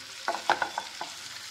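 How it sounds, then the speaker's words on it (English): Onion sweating in a pan over a medium flame, heard as a few quick close clinks and scrapes of a stirring utensil over a soft, low sizzle. "just sweat the onion"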